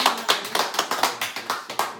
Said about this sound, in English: So please join me in a round of applause